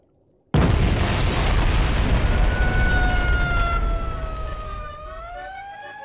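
A cartoon explosion effect bursts in suddenly with a loud boom, then rumbles on while a whistling, siren-like tone slides and wavers above it as the blast slowly fades.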